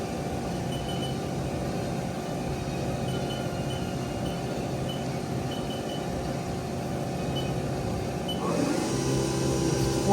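A 2002 Haas Mini Mill CNC vertical machining center spindle turning at 2,000 RPM gives a steady, even hum with a faint whine running through it, holding level and growing slightly louder near the end.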